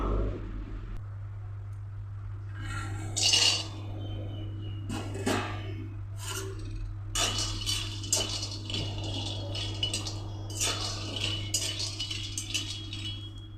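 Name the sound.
frying peanuts in a pan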